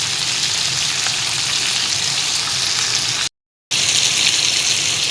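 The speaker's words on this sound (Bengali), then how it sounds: "তো আমি এটা ভাজতে থাকি এক সাইড করে।" Pomfret fish frying in a pan with onion, a steady loud sizzle and crackle that runs throughout and breaks off for a brief moment before resuming.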